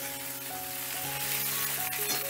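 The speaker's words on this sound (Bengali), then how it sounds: "এবার আলুটাও আমি একটু ভালো করে ভাজা ভাজা করে নেব" Grated potato frying in a pan with ginger, green chilli and asafoetida gives a steady, soft sizzle that runs throughout beneath prominent tonal background music.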